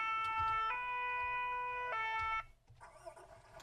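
A fire truck siren in the video game Farming Simulator 17 wails in loud, steady electronic tones with a pitch shift partway through, then cuts out, leaving quieter background noise.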